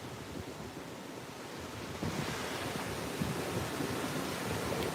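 Ocean surf washing onto a Gulf Coast beach on Padre Island, Texas, a steady broadband roar that swells louder partway through, with some wind noise on the microphone and no talking.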